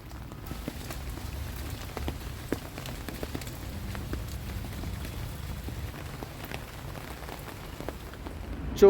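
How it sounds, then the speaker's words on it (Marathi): Steady overnight rain falls across an open farm field, a continuous even hiss of drops with faint scattered patters, moderately quiet and without any voices. "रात्रभर पाऊस चालू आहे."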